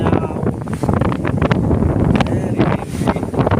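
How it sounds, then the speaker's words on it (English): Strong super typhoon wind buffets the microphone in heavy, gusting roars, with a voice speaking briefly underneath. "wow, very windy now"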